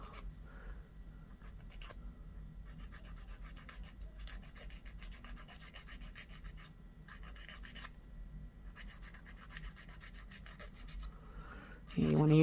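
A nail file rasps back and forth over the tips of press-on nails in quick, steady strokes. The sound is close and faint, with a few short pauses between passes.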